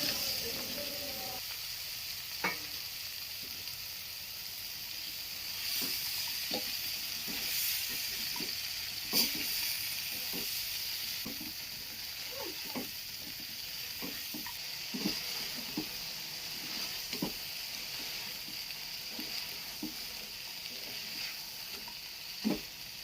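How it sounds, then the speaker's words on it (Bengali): Prawn heads sauté in a pan with a steady sizzling hiss, and soft clicks of stirring recur irregularly throughout at a moderate level, with no one talking. "এবারে এটাকে একটু ভালোভাবে কষিয়ে নেব।"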